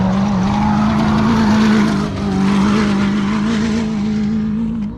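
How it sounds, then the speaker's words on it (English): A desert race vehicle in an off-road desert race comes in at speed, its engine a loud, steady roar with a sustained low drone that swells briefly and holds close, no talk over it. "Okay, so we can hear Diamond J coming"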